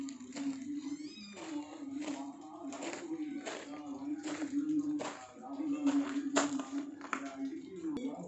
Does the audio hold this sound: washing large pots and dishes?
no